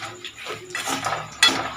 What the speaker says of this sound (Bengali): দেখুন এইভাবে ভালো করে চিকেনের পিসগুলো রসুনটা আর ক্যারি পাতার সাথে নেড়ে চেড়ে নিতে হবে।